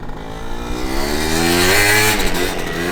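A 120cc stroker Honda Elite AF16 scooter engine with a water-cooled Dio build revs loud and close, its buzzing pitch climbing steadily and holding high near the end.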